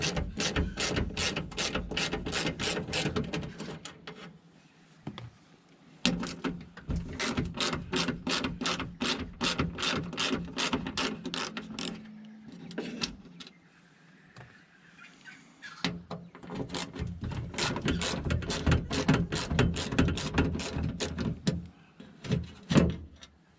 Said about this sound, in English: So I'll undo the screws now.